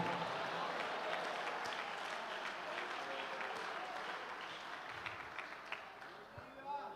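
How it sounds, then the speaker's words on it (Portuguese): A congregation in a church service applauds. The dense clapping is loud at first, then slowly fades. "Se é para aplaudir, aplaude e diga glória a Deus"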